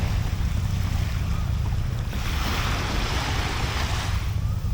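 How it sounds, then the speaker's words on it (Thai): Continuous rushing water and splashing with steady wind noise, loud and close, beside a small fishing boat under way. "เสียงน้ำ"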